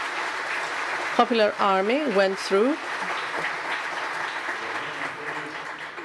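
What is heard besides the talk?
audience applause at conference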